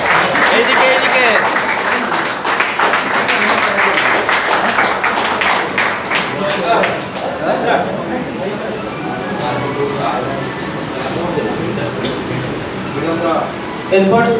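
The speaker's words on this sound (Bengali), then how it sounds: "সবাই একটু জোর করে হাততালি দেবেন" A crowd claps for the first-position winner at a pigeon club prize distribution ceremony in Kolkata, dense and sustained applause close by, thinning slightly toward the end, with voices talking over it.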